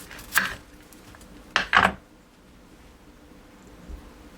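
A knife cuts the stem out of half a cauliflower head on a board, making three crisp, close crunching cuts: one, then a quick pair a moment later, with quiet between them.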